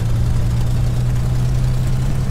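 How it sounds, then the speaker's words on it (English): A P-51 Mustang's piston engine warming up in an Accu-Sim flight simulator, a loud, steady low rumbling idle with a constant throbbing drone and no talking over it. "as this engine is warming up, it's running a little better"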